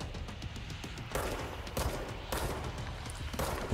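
Gunfire from the video game Control, repeated heavy bursts of shots in a steady rhythm over a dense rumbling game soundscape, moderately loud.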